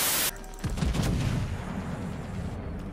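A heavy cannon shot in a tank video game, one loud sharp blast near the start followed by a long rumbling boom and decaying echo, with no talk.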